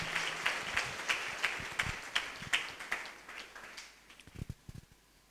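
An audience at a religious gathering claps in a steady burst of applause. It thins out toward the end, followed by a few louder, scattered claps.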